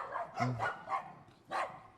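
A dog barks and yips in a few separate short bursts, moderately close, with no speech over it.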